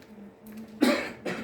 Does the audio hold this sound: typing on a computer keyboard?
no